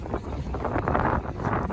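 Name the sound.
very cold wind blowing at Sela Pass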